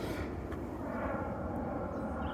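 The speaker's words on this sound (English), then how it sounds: "Thanks, airplane." Steady, broad roar of an airplane flying overhead outdoors, a constant low drone that holds evenly throughout without talk.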